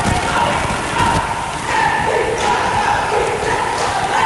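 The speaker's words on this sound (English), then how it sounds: "Noisy crowd. Good crowd here tonight." Noisy home crowd in a gym at a girls high school basketball game between Bradley Central and Howard, a loud, steady roar of cheering and chatter with a commentator talking over it.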